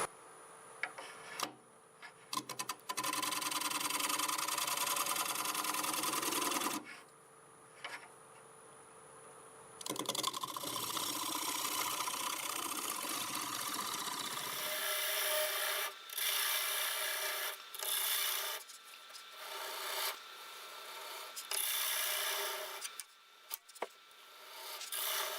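A scraper cutting hard olive wood spinning on a lathe, a loud continuous rasping scrape in long passes broken by short pauses and a few ticking knocks, no speech.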